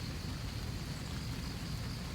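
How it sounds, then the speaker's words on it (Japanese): Rain falling at a campsite on a moonlit camping trip, a faint steady patter of drops with no voices. "また雨が降ってきました。"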